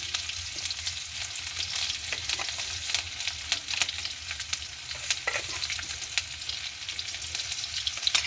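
Ginger paste and fenugreek sautéing in a pan for crab curry, a continuous close sizzle with scattered crackles and spoon scrapes throughout.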